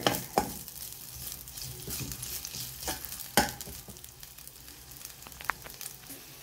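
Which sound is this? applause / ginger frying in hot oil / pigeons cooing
ginger frying in hot oil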